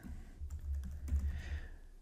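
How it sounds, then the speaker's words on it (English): Keys clack on a computer keyboard while code is typed, a quick irregular run of close, crisp taps that continues throughout with no talking. "So I will go ahead and fast forward through typing all this in"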